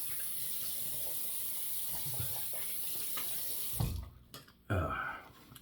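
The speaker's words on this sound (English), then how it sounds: "We're gonna rinse our face." Water runs steadily from a sink tap as a face is rinsed after shaving, then gives way to louder splashing and cupped-hand washing bursts near the end, close and fairly quiet.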